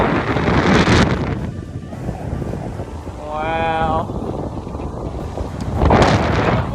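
Strong gusts at Myrtle Beach, South Carolina roar and buffet the microphone, easing briefly then surging again, while a person exclaims once and faint surf rumbles underneath.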